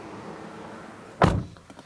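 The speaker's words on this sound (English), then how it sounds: "The whole structure just kind of shakes whenever you close the door." A car door shuts on a 2018 Toyota Prius C with one sharp, loud, tinny thud followed by a short rattle as the light body shakes, after a quiet stretch of background hum.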